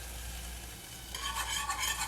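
A wooden spoon stirs a thickening cream sauce for mac and cheese, a quiet low hum at first, then soft rhythmic scraping and gentle bubbling that grows busier in the second half.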